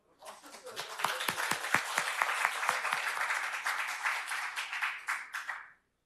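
Audience applause at a People Power Party award ceremony for metropolitan government candidates. It starts as a few scattered claps, swells into steady, full clapping from a crowd for several seconds, then stops abruptly.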